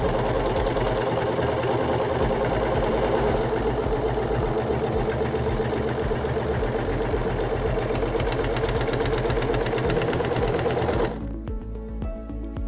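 A Singer S0230 serger sews a narrow three-thread overlock stitch while its knife trims the fabric edge, a loud steady rapid mechanical whir running continuously before it cuts off near the end.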